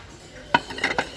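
Inexpensive ceramic plates and bowls are handled in a discount store, giving a few quick, close clinks and taps within about a second.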